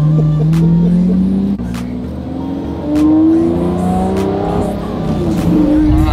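A sports car accelerates hard in first gear from inside the cabin, the engine note climbing steeply in a loud, close rising roar with a brief dip at a shift point before it pulls up again.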